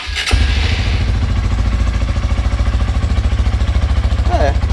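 A motorcycle engine with a new cheap exhaust cranks and fires up, then settles into a steady, throbbing idle close by with a low, pulsing exhaust note.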